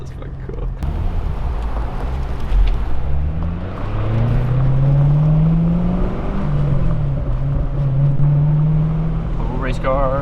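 A V8 sports car, either a Corvette C6 GS or a Porsche 928 S4, revs and pulls away nearby, the engine tone rising and sliding in pitch over steady road noise, with people talking briefly.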